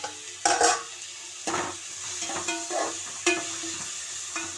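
Chopped onions, tomatoes and curry leaves sauté in a pan for Tirunelveli-style sambar, with a soft steady sizzle broken by several close, scraping stirs of a spoon against the pan.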